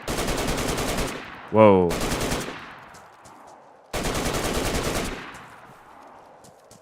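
Automatic weapon fire in the survival video game DayZ, two long rapid bursts of close, loud shots with ringing tails after each, and a brief exclaiming voice between them.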